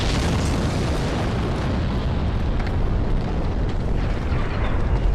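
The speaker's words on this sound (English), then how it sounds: "you want to look out for giant explosions" Giant explosions in the video game Dark Souls, a loud, continuous roaring rumble with no clear separate blasts, filling the whole stretch.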